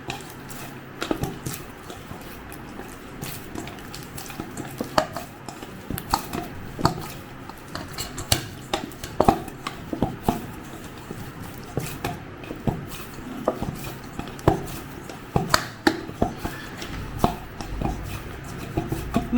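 Semolina dough is kneaded by hand in a steady run of soft, wet squishes and dull pats, close and fairly loud, repeating irregularly without any speech.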